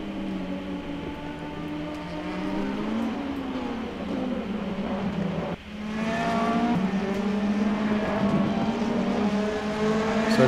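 Race cars in a sim racing stream drone and whine nearby in steady layered engine tones, rising and falling in pitch as they accelerate and shift, with a brief dip midway before the roar resumes louder.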